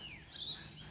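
Pet birds indoors give a few quick high chirps and tweets over a faint background hum, brief and moderately close, with no one talking.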